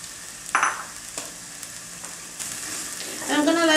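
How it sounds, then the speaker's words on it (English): Onions and garlic sautéing in olive oil in a pan, a soft low sizzle with a few sharp clinks of a utensil stirring, and a louder burst of bright sizzle near the end. "I'm going to just add a little bit of olive oil to the pan, and then I'm going to saute the onions and the garlic."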